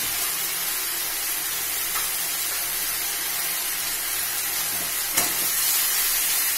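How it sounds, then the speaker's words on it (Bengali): Spice paste with yogurt frying in a pan for an echor chingri (jackfruit and prawn) dish, a continuous loud hissing sizzle with faint stirring scrapes and one brief clack. "দিয়ে আমি মশলাটা একটু কষে নেব।"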